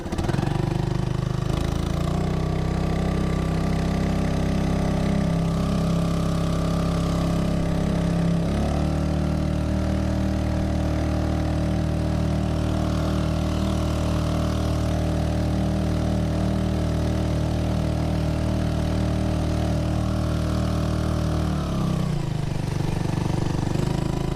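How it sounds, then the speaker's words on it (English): A Honda 2.3 HP outboard motor runs steadily on a Pelican Bass Raider boat, a loud, continuous close-up drone whose pitch shifts slightly a couple of times as the throttle changes, with no talking. "Sorry, the motor noise."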